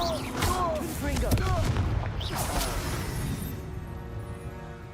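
Spell blasts boom amid magical combat in Hogwarts Legacy, several thumping explosive hits scattered over a few seconds while voices cast spells, the din thinning toward the end.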